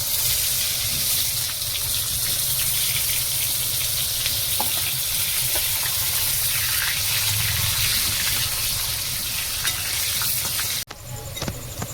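Thick-cut potato pieces fry in oil with a loud, dense, continuous sizzle close up, holding steady for over ten seconds before cutting off abruptly into a quieter bubbling hiss.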